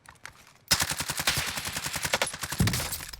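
Rapid automatic gunfire during a Call of Duty Warzone battle royale match, a quiet lead-in and then a loud, sustained stream of close shots in quick rhythm lasting a few seconds.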